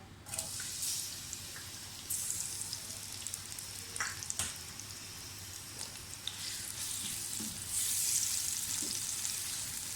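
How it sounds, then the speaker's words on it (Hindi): Onions dropped into hot oil fry with a continuous hissing sizzle that stays even and close, swelling near the end, with a few sharp clicks and light watery spatters in between. "ऑयल गर्म हो जाए तो सबसे पहले प्याज डाल दें।"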